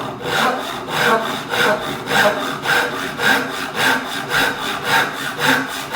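Hand saw cutting wood in a joinery setting, about a dozen steady rhythmic strokes with a rasping pull on each stroke, close and loud, no talking.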